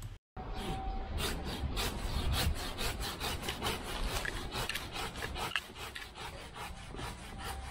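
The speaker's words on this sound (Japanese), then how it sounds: "この幹をここで切ります。 一度に切れないので少し刻みます。" Hand saw cutting through a glossy privet trunk during pruning, a steady run of rasping back-and-forth strokes, close and loud, with no talking.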